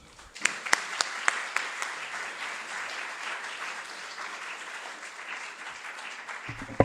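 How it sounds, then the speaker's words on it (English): An audience welcoming a guest speaker to an evening talk bursts into applause, starting with a few sharp individual claps that quickly swell into an even, moderately loud round before tapering near the end. "please join me in a very warm round of applause to welcome Federico Rampini"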